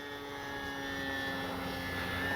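E-flite Gee Bee R2 radio-controlled model plane in flight, giving a steady, buzzing electric-motor whine that swells slightly louder as it passes, heard alone without talk.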